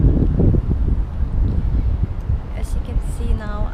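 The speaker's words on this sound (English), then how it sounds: "It's a little bit windy now." Wind gusts across the waterfront at Marina Bay, Singapore, buffeting the microphone with a low, uneven rumble while someone talks over it.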